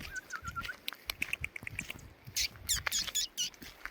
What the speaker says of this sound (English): Little bird there.